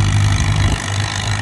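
An International Harvester 450 wide-front tractor with a straight pipe rumbles loud and close at a plow day, a deep throbbing exhaust note that slightly eases partway through.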